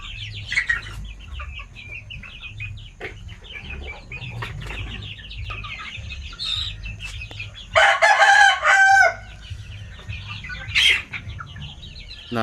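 Native chickens being raised for sale by the kilo cluck and call close by, and one loud rooster crow rings out about two-thirds through, with scattered clucks before and after.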